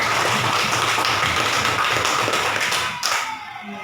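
A primary school class claps together in a dense, rapid patter for about three seconds, then the applause fades out quickly.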